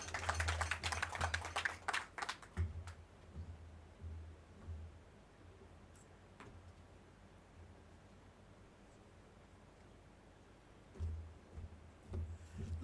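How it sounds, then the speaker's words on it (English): Audience applause at a national nutrition financing dialogue for Honorable Okwang, a dense burst of clapping for about two seconds that quickly fades, with a few scattered claps later over a low room hum. "another big applause to Honorable Okwang"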